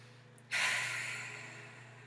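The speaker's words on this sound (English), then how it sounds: "let's all just take a few relaxing breaths at our own" A single slow, relaxing breath, a long airy exhale that starts abruptly and fades gradually, close and soft over a low steady hum.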